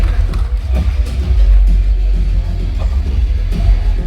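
Studio audience at a live Indonesian talk-show taping with presidential candidates on stage, applauding and cheering as a dense, steady crowd wash that holds loud for several seconds, with scattered voices mixed in.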